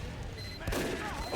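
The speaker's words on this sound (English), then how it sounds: "We're going to have a sniper fight here." A single sharp sniper rifle shot cracks out in Team Fortress 2 during a tournament match, a loud booming report followed by a brief rumbling tail over steady game background noise.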